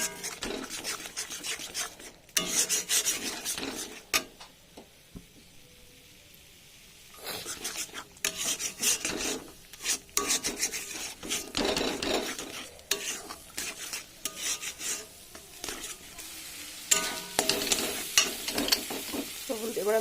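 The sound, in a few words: stirring eggs frying in spiced oil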